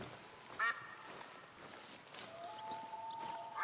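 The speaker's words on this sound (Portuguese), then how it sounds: "Isto patos não faltam." Ducks quack in the hunting game theHunter: Call of the Wild on a coastal map, a few short calls at moderate distance over steady ambient wind and bird noise, with no talking.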